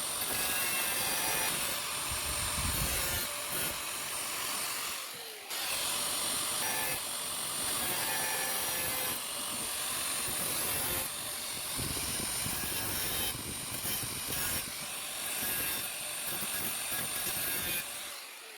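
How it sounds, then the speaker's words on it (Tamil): A cutting motor slices through a plastic air filter box to make a charging port opening during an electric TVS 50 moped conversion, a loud, harsh, whining grind lasting throughout with one short pause. "இப்போ அந்த மார்க்கிங்கில் வந்துட்டு கட்டிங் மோட்டார் யூஸ் பண்ணி கட் பண்ணிக்கலாம்"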